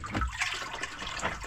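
Water pours and gurgles steadily into an aquarium on a fishing trip, a soft continuous splashing at close range with no one talking.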